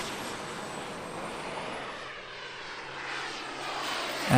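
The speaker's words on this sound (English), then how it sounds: "And here we go for the takeoff" Engine of a huge 149-kilogram radio-controlled model airplane during takeoff, a steady broad droning roar heard from a distance, fairly faint and swelling slightly toward the end.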